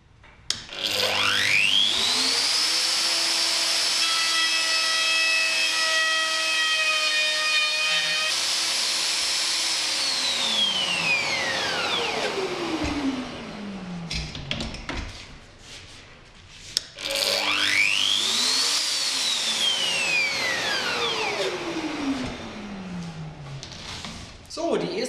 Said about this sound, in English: I again take the router with my 30mm cutting ring, 14mm router, place it at the desired cutting depth for the kitchen countertop